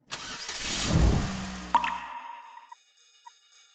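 A car engine cranks and catches, then quickly dies away, leaving a faint lingering tone in a quiet setting.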